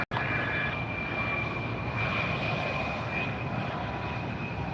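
An American Airlines heavy airliner lands on runway 24 right at Los Angeles Airport, its engines a loud, steady roar that fills the clip from start to finish.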